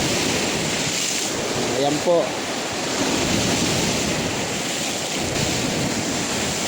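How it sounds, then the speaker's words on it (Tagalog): Big sea waves from Typhoon Wilma in Lavezares, Samar, roar and crash continuously in strong wind, surging over a seawall, with a person speaking briefly over the surf. "Ganito ang dagat sa amin. Malalaki ang alon."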